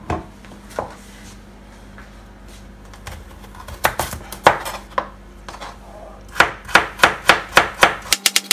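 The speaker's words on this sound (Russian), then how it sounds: "Сейчас нарезаем морковку" A knife slices carrots against a cutting board, scattered taps at first, then a quick run of sharp, evenly spaced chops near the end.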